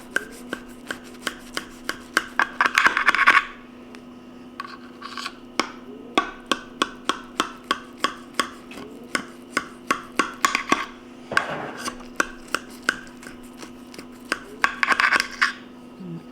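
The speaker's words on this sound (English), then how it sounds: "we're gonna go ahead and cut us some out" A utensil cutting through meatloaf casserole in a baking dish, making rapid, repeated sharp taps and scrapes against the dish in irregular bursts, close and clear, with a steady hum underneath.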